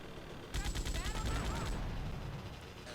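An MP5 submachine gun fires a rapid burst in GTA Liberty City Stories, roughly a second of dense crackling shots that then give way to a lingering noisy background.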